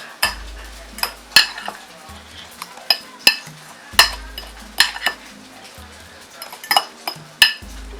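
Spoon stirring salt, black pepper and lime juice together in a bowl, a series of sharp clinks and scrapes in irregular bursts, close and clear with quiet gaps between strokes.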